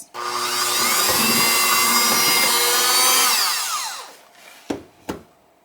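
An electric mixer whirs steadily for a few seconds while beating icing sugar into icing for gingerbread cookie bars, then winds down and stops, followed by two sharp knocks.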